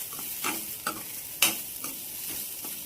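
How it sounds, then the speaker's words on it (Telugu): Grated carrot being stirred in a pan over a low flame gives soft, irregular scrapes and clicks over a faint, steady frying hiss, with no voices. "దాంట్లోకి మనము క్యారెట్ తురుము వేసుకోవాలి. బాగా కలుపుకోవాలి. కొద్దిసేపు లో ఫ్లేమ్లో ఫ్రై చేసుకోవాలి."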